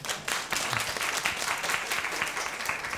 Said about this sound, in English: So you must give yourself a round of applause,